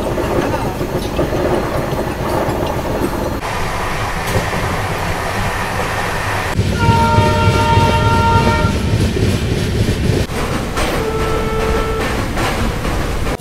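Basava Express, a new LHB coach train running between Mysuru and Bagalkot, rumbles steadily with wheel clatter. Partway through, a loud sustained horn blast sounds, and a shorter one follows.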